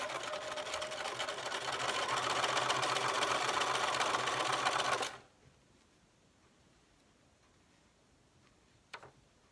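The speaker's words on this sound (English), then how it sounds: "Putting right sides together, just feeding them through the machine." A sewing machine chain stitching quilt blocks runs in a steady, fast mechanical whir for about five seconds, then stops, leaving quiet room noise and a faint click near the end.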